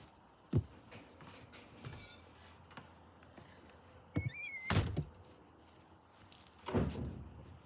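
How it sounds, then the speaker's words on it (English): A door thumps shut outdoors in Maine, a single dull knock with a few lighter clatters around it, set against quiet background ambience. "Just had to shut a door."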